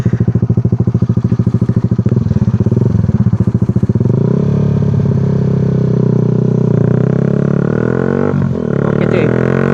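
A Honda Sonic 150R motorcycle fitted with an SC Project exhaust revs hard with rapid popping pulses, then settles into a smooth, loud, rising drone as it accelerates at high RPM close by.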